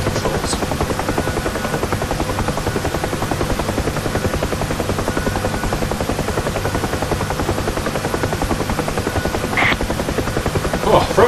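A helicopter in the Digital Combat Simulator game flies with a steady, loud rotor drone and a fast rhythmic chop that keeps on without a break, plus a few small clicks near the end.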